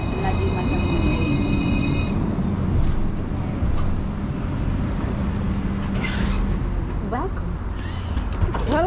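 Steady low rumble and rolling hum inside a moving light rail train car, with people chatting over the constant ride noise and a few faint squeaks near the end.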